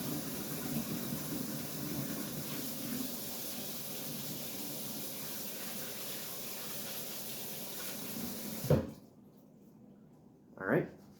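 Tap water runs steadily for hand washing in a home kitchen while cooking shrimp pasta, a continuous broadband rush, then stops abruptly near the end, followed by two brief thuds.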